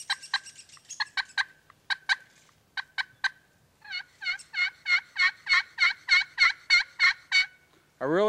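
Cutting on a glass slate turkey call imitates a hen: sharp, irregular clucks first, then a steady run of about a dozen loud, even yelps, ending in a rising squeal.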